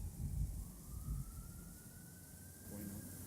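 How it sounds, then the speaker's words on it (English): A faint police car siren tone rises slowly and holds steady in the distance, heard under low traffic rumble and a few muffled voice-like sounds. "Aeon, which way for this police car?"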